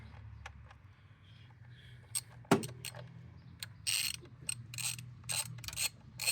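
Ratchet wrench tightening the ignition coil pack bolts on a Dodge Grand Caravan, quick bursts of clicking pawl strokes after a sharp clank, close and fairly loud over a faint engine-bay hum.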